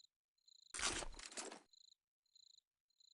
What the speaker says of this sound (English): Can you hear these little crickets?